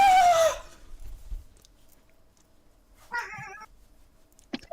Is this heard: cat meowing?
yes